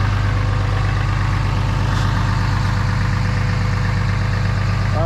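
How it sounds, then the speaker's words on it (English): A 2018 Ram pickup truck sits in the cold with its engine at a high idle, a steady, loud, low rumble that drones on evenly without any change in pitch. "It's high idling because it's cold"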